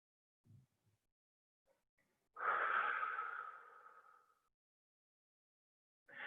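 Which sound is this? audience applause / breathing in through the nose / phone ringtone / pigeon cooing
breathing in through the nose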